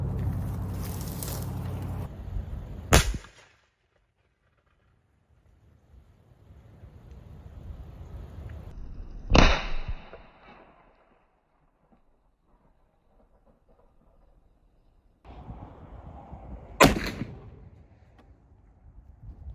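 Three sharp, loud bangs ring out at intervals, each followed by a short decay, with outdoor rumble and noise in between.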